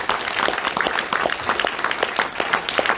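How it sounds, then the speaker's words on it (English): Applause at a bagpipe recital in the Queensland Multicultural Centre, Brisbane: a dense, steady patter of many hands clapping throughout, moderately loud and fairly close, with no voices over it. "Another round of applause for Willie,"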